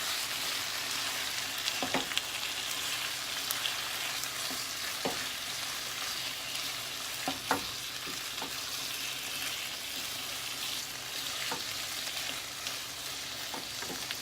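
Garlic shrimp pasta with parsley is stirred in a hot pan, giving a steady close sizzle with scattered utensil scrapes and taps.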